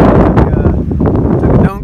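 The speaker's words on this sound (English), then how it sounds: "So that wind is just cold coming down through the canyon." Cold wind gusting down through 11 Mile Canyon buffets the microphone in a loud, close, low roar for the whole moment, with no one talking.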